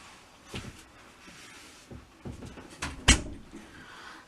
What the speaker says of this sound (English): Lincoln, don't close him in the door.